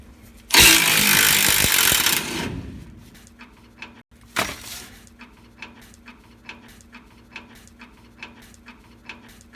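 A loud burst of power tool whirring for a couple of seconds while removing a rusted bolt from a 2015 Ford F-150 rear shock, a second brief burst, then a string of faint regular ticks and clicks.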